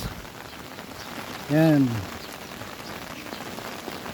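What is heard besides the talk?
rain falling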